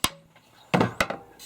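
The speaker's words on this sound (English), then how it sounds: "I'm just using a leather hammer here" A leather hammer drives a Finnish Billnas No.7 axe head onto its wooden haft during re-hafting: one sharp knock, a pause, then a cluster of three close, dull wooden blows.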